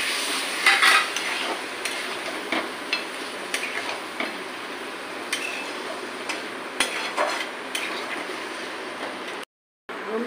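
Chicken masala is stirred and fried in a pan, with a steady sizzle and repeated scraping and clinking of a spoon against the metal that runs close and clear throughout, then a brief silent gap near the end.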